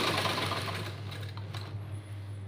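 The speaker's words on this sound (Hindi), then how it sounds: "इस तरीके से हम इस पर सिलाई लगा लेंगे" An electric sewing machine stitches lace onto a buttoned blouse, a close, steady whirring hum with a fast mechanical clatter that gradually eases in loudness.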